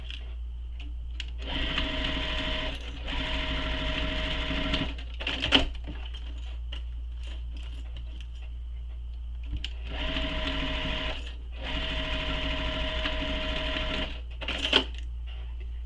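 A sewing machine stitches the bottom seam of a fabric shoulder bag in two long runs with a pause between, each burst of rapid even whirring close and steady, with small clicks and fabric handling in the gaps.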